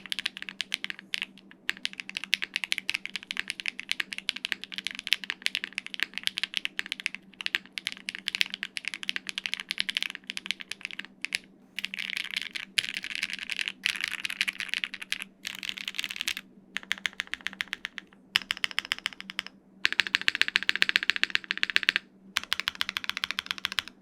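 Typing on a Haven65 mechanical keyboard without case foam gives close, dense, clean clicks in fast bursts with brief pauses and a louder flurry of keystrokes near the end, with no voices.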